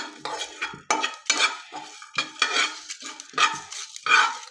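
Whole spices such as dried coriander, green tea and lemongrass are stirred in a pan while lightly roasting for tikka masala: repeated close scraping and clinking of a utensil against the metal pan with a soft sizzle, no talking.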